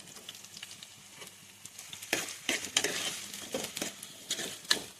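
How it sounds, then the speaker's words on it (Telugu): Chopped onions and green chilies fry in oil for fish curry while being stirred, with a soft sizzle broken by several louder scraping stirs and clatters near the pan, and no one speaking. "ఉల్లిపాయ పచ్చిమిరపకాయలు వేసుకొని బాగా కలుపుకోవాలి, మధ్య వరకు గోల్డెన్ బ్రౌనిష్ కలర్ వచ్చే వరకు వేయించుకోవాలి"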